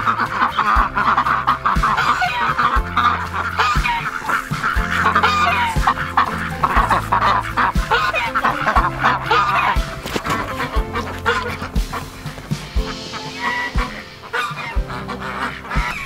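Ducks and geese call by a pond, a loud, busy, overlapping chorus of honks and quacks from several nearby birds that continues without pause.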